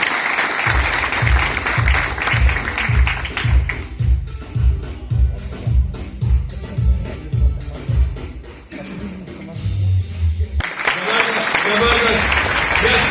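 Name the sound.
applause for Ajit at a seminar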